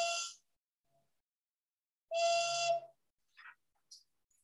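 A simple carved wooden whistle wrapped in spruce roots gives two short, clear blown tones separated by a pause, followed by a couple of faint brief chirps.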